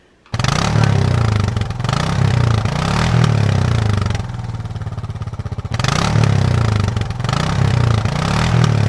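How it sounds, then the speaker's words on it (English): Monster truck engine revving loudly in repeated throaty surges, with a rough idle dip in the middle before the revs climb again, close and alone without talk. "A monster truck."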